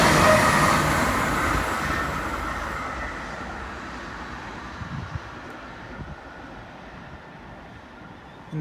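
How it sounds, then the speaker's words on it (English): A passenger train rumbles loudly at first as it approaches a station platform, then its roar gradually fades into a steady rolling hum, with no voices heard. "And there it is, the Sydney Explorer from Armidale, Moree. Approaching platform 1"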